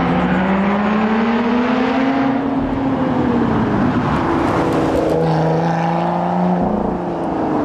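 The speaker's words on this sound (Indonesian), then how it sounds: "Wow, car racing teman-teman." Toy racing car giving off a loud, continuous electronic engine roar with rising and falling revving tones, steady and close with no voices over it.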